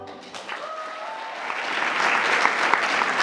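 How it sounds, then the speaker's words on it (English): Audience clapping for performers at the close of a school Christmas show with choir songs, a steady wash of applause that builds and grows louder and denser toward the end, with no talk over it. "All the participants were rewarded with big applause."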